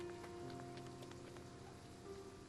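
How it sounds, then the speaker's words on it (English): Steady rain pattering on surfaces in the video game Triangle Strategy, a continuous even wash of drops with no pauses and no talk. "I doubt the rain will let up anytime soon"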